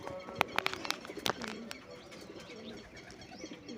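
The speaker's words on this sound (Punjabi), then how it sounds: "ਦੇਖੋ ਬਾਈ ਉੱਡ ਗਈ ਕਬੂਤਰੀ ਇਹ ਵੀ" Pigeon released from a rooftop loft flaps off, a burst of sharp wingbeats near the start followed by soft cooing and faint bird calls in the background.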